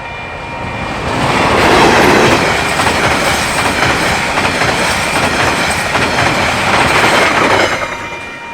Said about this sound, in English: DFB 7010 speeding into town with train 1203 to Wellington